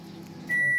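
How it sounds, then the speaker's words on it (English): A microwave oven gives one steady, loud beep that starts halfway through and holds to the end, over a low kitchen hum. "when he goes to use the microwave"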